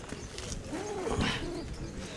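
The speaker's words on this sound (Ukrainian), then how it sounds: "Це всі голубки тут." Pigeons coo at a rural fair bird market, a soft rolling coo rising in the middle of the stretch among background crowd murmur and faint voices.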